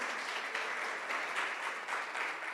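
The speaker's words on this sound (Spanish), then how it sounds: "Un fuerte aplauso para Julián." A room full of people applauds a speaker at the close of a talk on securing privileged access, a steady dense wash of clapping that holds evenly for the whole stretch with no voices over it.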